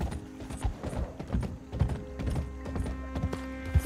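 Horse hooves clip-clopping in Red Dead Redemption 2, a steady run of close, fairly loud hoofbeats over a low game hum, with no talking.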